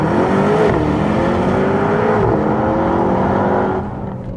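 A 2019 Mercedes-AMG GT63S 4-Door in Sport Plus mode with the brake held, building revs for launch control: a loud, close, continuous engine drone that rises in pitch and holds, then eases off at the end.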